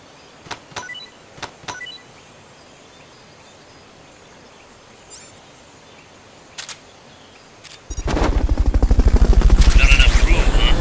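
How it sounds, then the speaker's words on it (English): Fulton recovery helicopter in Metal Gear Solid: Peace Walker arrives as a loud, rapidly pulsing rotor thump and whine that swells in over the last three seconds, after scattered clicks and short game sound effects. "Fulton recovery helicopter is complete."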